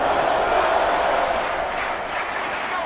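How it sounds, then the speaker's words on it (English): A football stadium crowd roars steadily as a big third down approaches, a dense, continuous wall of cheering that holds at a fairly even loudness throughout. "the crowd getting into it as we come up on a big 3rd down"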